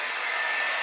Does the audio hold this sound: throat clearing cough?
no